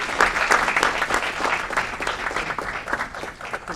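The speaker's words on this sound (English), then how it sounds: "a round of applause for the entire team who made that happen" An audience at an Aurora city committee meeting gives a round of applause for a team, close and steady clapping that carries on without pause.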